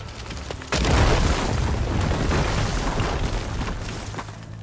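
A burning barrel explodes in the video game Horizon Forbidden West: a sudden loud boom after a brief quiet start, followed by a long rumbling, crackling decay.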